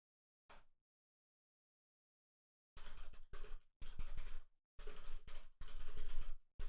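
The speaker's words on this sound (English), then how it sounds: "Just typing." Typing on a computer keyboard during a team chat in a PC game: one short tap, a pause of silence, then rapid, close clattering bursts of keystrokes separated by brief gaps.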